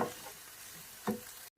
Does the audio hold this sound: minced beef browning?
yes